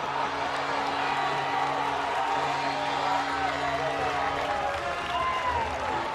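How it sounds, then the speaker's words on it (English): A college lacrosse crowd at a Michigan game cheers and applauds after a goal, a sustained roar of voices and clapping with scattered whoops, heard steadily through the whole stretch. "This crowd is rocking."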